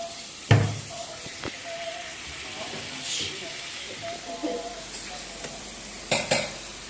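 Onions frying in a pan and stirred: a steady soft sizzle and hiss with occasional sharp knocks and scrapes of a utensil against the pan, close by, with someone talking intermittently over it.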